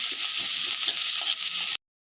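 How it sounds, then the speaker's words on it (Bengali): Onions frying in a pan while being stirred, a steady bright sizzle with soft scraping strokes, close and continuous, no voices, ending abruptly. "সুন্দর করে নেড়ে চেড়ে ভেজে ভেজে নিতে হবে একটু হালকা হালকা ব্রাউন ব্রাউন কালার করতে হবে যাতে পেঁয়াজটা ভালো মতো ভাজা হয়"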